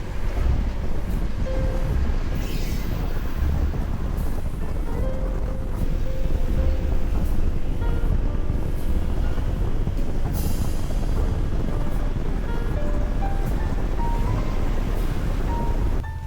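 Heavy road traffic rumbles steadily alongside a car driving through the Philippines, with trucks passing close by; a loud, continuous low roar with no voices.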